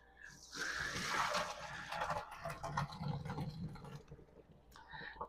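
Boiled potatoes tipped from a pot into a colander in a home kitchen, a loud rushing pour of water and tumbling thuds lasting a few seconds, then trailing off into drips.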